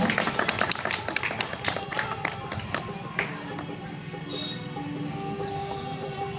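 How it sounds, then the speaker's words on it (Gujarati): Applause for a guest at a BJP village political meeting in Lushala: a crowd's dense, close clapping fills the first three seconds, then thins and fades into a quieter background murmur. "કરશનભાઈ, તાળીઓથી વધાવીએ આપણે બધા."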